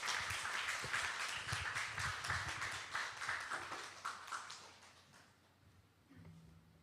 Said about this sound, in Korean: 우리 목사님 나오실 때 큰 박수로 맞이하겠습니다.